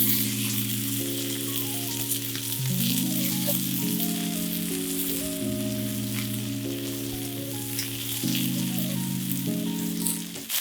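Chicken sizzles in olive oil in a pan, a loud, close, continuous crackling fry with a steady tonal hum underneath and no talk.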